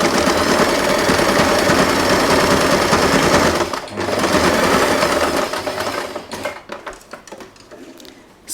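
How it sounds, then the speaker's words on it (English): A sewing machine stitches the centre part of a fabric bow with pearl beads, running in a steady loud whir for about four seconds, pausing briefly, then continuing before slowing into a few separate clicks and thumps near the end. "Now we are going to sew the center part."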